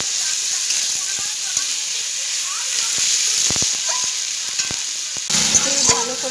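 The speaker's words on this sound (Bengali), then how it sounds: "2 থেকে 4 মিনিট এটা একটু ভাজা হতে লাগবে।" Fig (dumur) curry with prawns sizzles in a pan, a constant hiss broken by sharp clicks and scrapes of stirring, with a voice heard briefly near the end.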